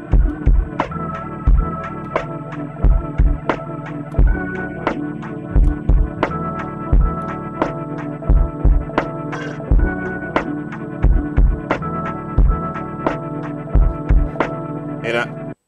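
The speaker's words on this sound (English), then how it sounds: "It sounds a little chorusy." A looping groove of thumping drums and warm instrumental tones with a subtly wavering, chorused wobble in pitch from a lofi tape flutter plugin, like worn tape, steady throughout.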